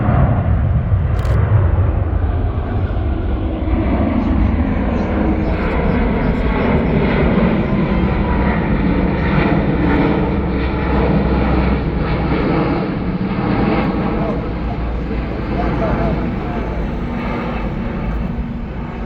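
Airliner climbing steeply after takeoff at the Farnborough Airshow, a loud continuous roar of engines rumbling steadily for nearly twenty seconds, with spectators talking over it.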